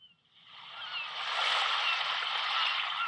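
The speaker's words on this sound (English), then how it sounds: "Noisy birds fly around and look for food." Seabirds at the seashore fill the air with a dense, loud chorus of overlapping honking cries, starting a little quieter and then staying strong and continuous.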